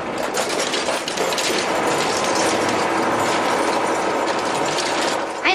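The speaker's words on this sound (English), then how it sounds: "but I hear a motor" A motor runs in a cartoon scene, a continuous loud mechanical whirring and clattering like gears or a ratchet, steady throughout with no voices.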